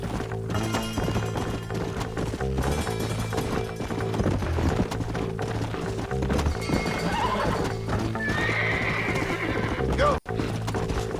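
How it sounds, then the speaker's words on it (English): Rapid hooves clip-clop in a galloping rhythm while horses neigh and whinny in the video game Red Dead, loud and close, with a person talking over the game sounds. "I forgot how much I hate the horses in this game."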